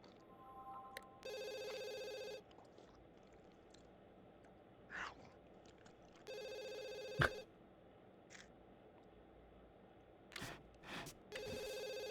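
A telephone in The Sims 2 rings three times, each ring a burst of electronic trilling about a second long, separated by quiet gaps with faint clicks and rustles.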